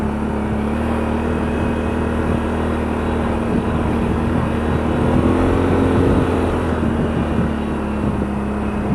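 ATV fitted with 31-inch MotoHavok tires riding fast down a bumpy trail: a loud, steady engine drone with rumbling, wind-buffeted road noise throughout.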